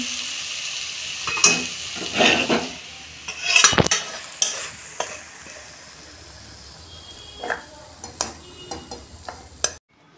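A banana flower dish with ghee is poured into a hot pan and stirred, giving a quiet sizzle under bursts of spoon scraping and clatter that fade to occasional clinks before the end.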